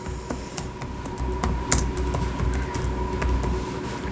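Keys clatter on a computer keyboard as PAN details are entered into a GST registration form online, a steady run of near, crisp keystrokes with a few louder taps over a low background hum.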